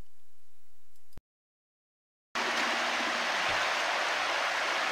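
Anemone Creek flows in a steady, close rush of water, a bright continuous wash that starts abruptly after a brief quiet gap and carries on evenly.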